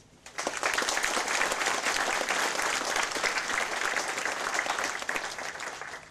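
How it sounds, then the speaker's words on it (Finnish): Audience applause at a Finnish wind band's 30th anniversary concert for the Nakkila wind band, starting abruptly after a brief quiet moment and holding as a dense, steady wash of clapping from a large crowd. "sille isot aplodit"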